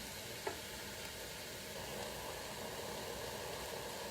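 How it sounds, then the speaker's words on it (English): Ingredients for Italian wedding soup sautéing in a pot, heard as a faint, continuous low sizzle with a single small knock early on and no talking. "we're going to let that keep sauteing"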